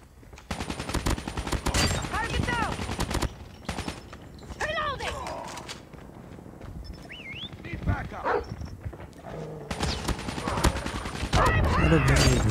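Video game gunfire crackles in short bursts across the whole stretch, mixed with frequent talking and other game sounds, sometimes loud and sometimes pulled back under the voices.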